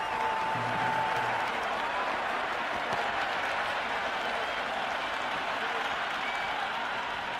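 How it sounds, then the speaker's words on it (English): Video game crowd at a Cricket 26 India vs South Africa T20 match, a steady, loud wash of cheering and clapping from the stands that holds for several seconds without letting up. "It's the most enthusiastic crowd you could ever see right now. There's a buzz, a real buzz coming from the stands."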